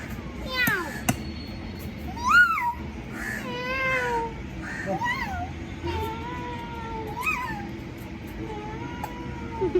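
A pet cat meows over and over, its calls rising and falling in pitch, some sharp and some drawn out, close by while people, including a child, chat around it.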